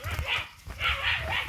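A dog barks several times outdoors on a rural path after rain, short yappy barks repeated in quick succession, fairly close and loud.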